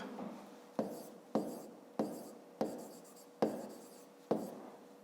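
Pen writing out a fifth-grade maths solution on paper, with a series of firm strokes and scratching bursts close up, each stroke starting sharply and then trailing off, heard alone with no talk.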